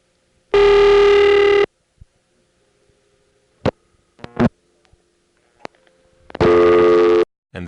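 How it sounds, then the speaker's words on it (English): Two loud, harsh, distorted telephone rings on an intra-office call through a step-by-step exchange, several seconds apart, with scattered mechanical clicks and faint hum between them. "Sorry for the distortion on the ring."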